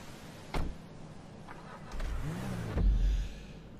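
A car engine in Grand Theft Auto V idles low and quiet, then revs up briefly in two short swells with a soft electronic whir between, fairly faint throughout.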